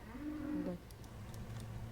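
A cow on a farm gives a faint, low moo that fades after a moment, followed by quieter, muffled animal sounds in the background.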